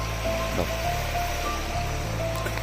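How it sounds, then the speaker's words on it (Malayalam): A river flowing near a concrete check dam gives a steady, loud rushing wash throughout, with a low engine-like hum running underneath. "ഇവിടെ ഒരു പുഴയുണ്ട് കേട്ടോ"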